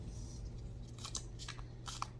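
Tarot cards being shuffled, giving soft papery crunching riffles in a few quick bursts, close and fairly quiet over low background hum.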